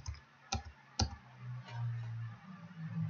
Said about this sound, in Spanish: Hacemos clic derecho sobre el campo Data, clic derecho